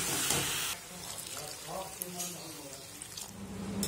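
Boiled water pours from a vessel into a pan of potato curry, a brief gushing splash up close, then soft simmering and stirring sounds with a voice speaking faintly.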